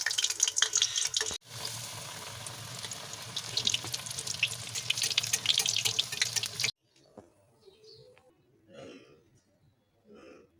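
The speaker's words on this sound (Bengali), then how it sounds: "আস্তে আস্তে করে পেঁয়াজের পাতিগুলো ফাটতে শুরু করে দেবে" Onion pakoras frying in mustard oil give a dense, close, continuous crackling sizzle for about six and a half seconds, then stop abruptly, leaving near quiet with a few faint scattered sounds.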